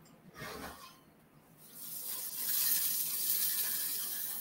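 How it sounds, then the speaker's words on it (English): Food sizzles and crackles in a hot pan in an oven, the hiss growing louder and steadier partway through, with a few soft clatters near the start. "Can you hear the sizzle?"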